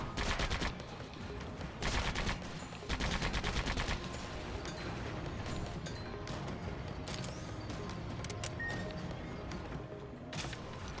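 Gunfire in the Sand Land game, with rapid bursts and scattered shots over a steady noisy battle backdrop, loud at the start and continuing throughout.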